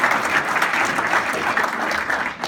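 Steady audience clapping during a speech, a dense, even patter of many hands at close range that continues without a break through the short stretch.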